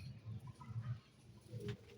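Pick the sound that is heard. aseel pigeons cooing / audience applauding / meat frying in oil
aseel pigeons cooing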